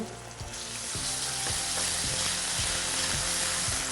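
Onions sizzle and fry with ginger-garlic paste in a hot pan, a loud steady crackle with repeated scraping knocks of a spoon stirring, no talking.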